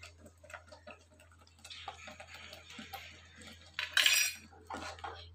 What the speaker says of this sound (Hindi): इतना छींटा पड़ रहा है ना, जल रहा है, बहुत गर्म है।